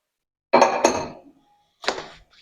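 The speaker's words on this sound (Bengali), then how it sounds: "2 চামচ করে নিয়ে নিচ্ছি প্রত্যেকটা।" Spoonfuls of CTC tea leaves tipped into tasting cups, two sharp close clinks in quick succession followed after a pause by a third, each ringing out briefly in a quiet room.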